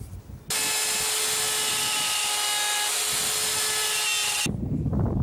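Wood router with a bearing-guided bit cutting into a wooden guitar body: one steady, loud, high-pitched whine held for about four seconds, starting and stopping abruptly, close by with no talking.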